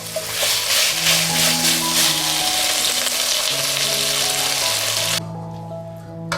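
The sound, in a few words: stir-frying food with seasoning and chicken bouillon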